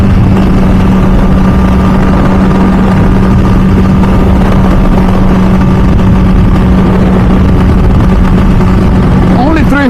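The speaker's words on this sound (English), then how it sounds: "There is that sound, if you guys can hear it, from the RG3 race exhaust." An MV Agusta F4 Senna motorcycle, a limited 2007 model fitted with an RG3 race exhaust, drones loudly and steadily through the whole stretch, its engine note holding a constant hum with a brief rising rev at the end.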